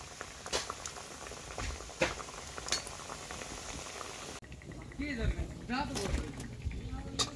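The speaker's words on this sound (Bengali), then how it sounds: "বাকিগুলো একইভাবে ভেজে নেব" Samosas (singara) deep-frying in hot oil give a steady bubbling sizzle throughout, with brief clinks of a utensil and a change in texture partway as pieces are lifted out and more are added, with a person talking over it.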